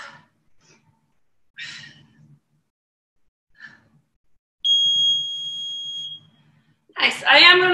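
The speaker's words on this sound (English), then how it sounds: "I am going to stop the beeper just for a quick moment for this next one" A workout interval timer gives a single steady electronic beep lasting over a second, loud and clear between quiet stretches of breathing, gasps and faint movement, followed by a voice speaking.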